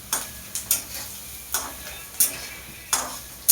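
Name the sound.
poha cooking, stirred and sizzling in oil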